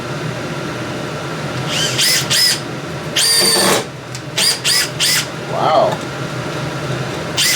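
A cordless power drill, its battery repaired, drives screws into a small block of wood, splitting it: several short bursts of whirring motor, each a second or less, close by, with a brief exclamation from a voice.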